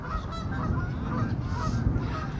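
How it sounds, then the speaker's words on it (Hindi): Waterfowl on the Roosevelt Island shore honk repeatedly in a dense, nasal chorus over steady outdoor background noise, close and fairly loud throughout. "बतख है सारी।"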